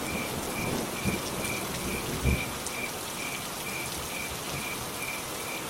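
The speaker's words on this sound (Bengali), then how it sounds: "যা ঝড় বৃষ্টি শুরু হয়েছে" Steady heavy rain pours through a stormy night while a cricket chirps in a regular, evenly spaced rhythm above it, with a couple of dull low thumps; no voices.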